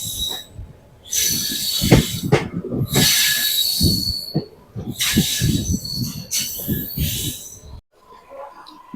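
A local train pulling into Jaleswar railway station, loud bursts of rumbling wheels and high metallic squeals rising and falling over several seconds before fading near the end.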